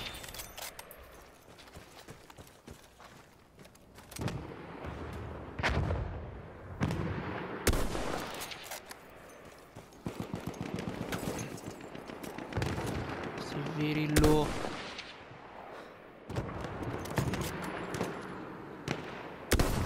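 Battlefield 1 gunfire erupts in sharp, loud bursts of rifle and sniper shots with scattered explosions. Some shots land as isolated cracks and others cluster together, and excited voices are heard between them.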